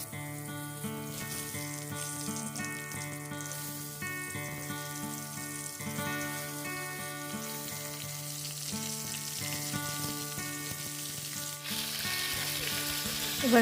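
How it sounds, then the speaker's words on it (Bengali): Mango pieces for pickle fry in hot oil with panch phoron, giving a steady, close bubbling sizzle that runs unbroken, with faint music underneath. "এবার আমগুলোকে তেলের মধ্যে ছেড়ে দেব।"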